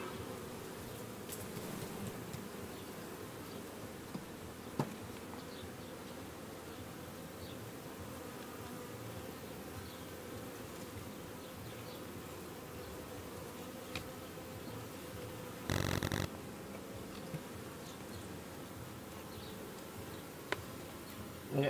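Honeybees buzzing around hives during a late-July hive inspection, a dense continuous hum close by with a few brief clicks and knocks, no talking over it.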